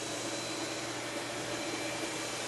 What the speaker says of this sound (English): if I vacuum on this carpeting